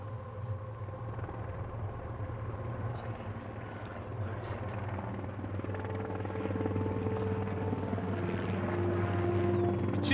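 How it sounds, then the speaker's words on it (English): A Black Hawk helicopter flies over a mountain crash site, its steady rotor thump and engine drone growing gradually louder as it approaches across the whole stretch. "the crew of a Black Hawk chopper spots the crash site"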